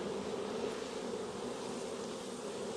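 Honeybees buzzing around an open hive while a nuc is dropped in, a dense continuous drone of many bees close by, steady and unbroken throughout.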